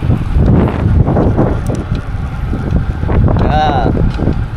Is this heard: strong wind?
yes